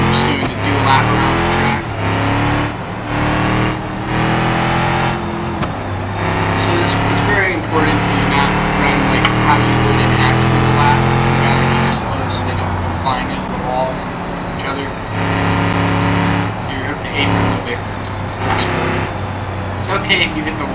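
NASCAR truck engine in BeamNG Drive driving a lap, a loud steady drone with rising and falling revs through gear shifts, continuous throughout.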